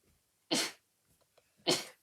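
Two sharp sneezes from a person with a cold, close and fairly loud, about a second apart, with quiet breathing in between.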